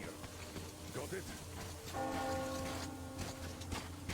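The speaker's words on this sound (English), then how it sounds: "Do you hear that bell?" A church bell rings in the video game Metro Exodus, a sustained metallic tone swelling out of steady rain and ambient noise, heard at a moderate distance and fading slowly.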